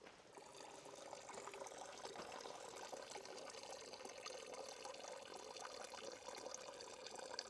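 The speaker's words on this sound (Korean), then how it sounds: "여기는 물 소리가 어디서 나네요?" Water runs steadily at a Buddhist temple, Geumseonsa, a continuous splashing trickle with no voices, moderately distant and even throughout.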